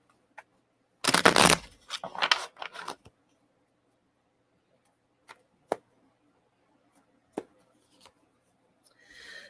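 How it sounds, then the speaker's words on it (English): A deck of cards is shuffled in a quiet room: a quick, dense riffle burst, a couple of shorter rustles, then scattered soft taps and clicks. "I swear I'm shuffling these cards."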